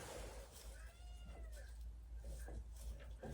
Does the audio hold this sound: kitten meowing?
yes